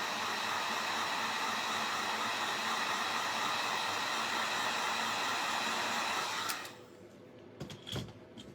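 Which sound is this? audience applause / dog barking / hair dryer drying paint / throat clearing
hair dryer drying paint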